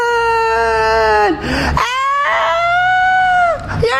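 A preacher's voice imitates people on a ship wailing and screaming, rising into long, strained, pitch-sliding cries that break and restart, loud and close, with brief spoken fragments between the wails.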